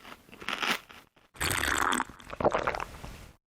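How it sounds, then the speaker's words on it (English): Wet, crunching chewing and biting from a character wolfing down food in the video game Death Mark, coming in loud close bursts with brief silent gaps between them. "Oh, I don't like the chewing noises."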